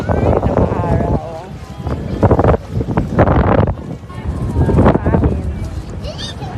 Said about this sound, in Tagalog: Oo nga, mahangin dito eh.